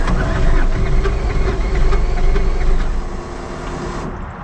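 A turbocharged LS engine in a Dodge Dakota with no compression, running loud and close with a rough, uneven rumble before it drops off near the end.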